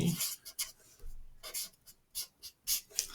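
A pen writes by hand on paper in short scratchy bursts of strokes with small pauses between them. The sound is close and quiet, with no talking.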